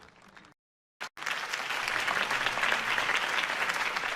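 After a brief silent gap, a crowd breaks into sustained, dense applause for Harvey Dent's campaign speech in Batman: The Telltale Series, steady and fairly loud to the end.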